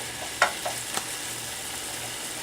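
Beef in tomato sauce with red chili pepper frying in a pan, a soft steady sizzle with a few light scrapes and taps of a spoon stirring.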